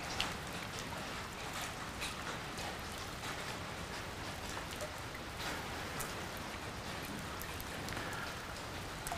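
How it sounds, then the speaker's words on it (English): Light drizzle falling outdoors on a lake during fishing, a faint, continuous patter of fine drops with scattered soft ticks, steady throughout with no voices. "Drizzle."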